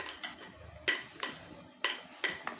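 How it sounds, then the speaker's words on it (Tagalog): Homemade lemon dishwashing liquid is stirred with a utensil in a container, giving several sharp clinking scrapes at a steady uneven rhythm, close and fairly quiet. "na haluin mo siya ng haluin hanggang makuha mo na yung kanyang mixture"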